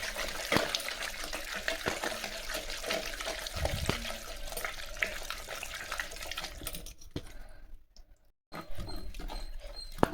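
Water strained off boiled greens is poured in a home kitchen, a steady splashing trickle with scattered clinks of a vessel, close and continuous before a brief silent pause and a short resumption.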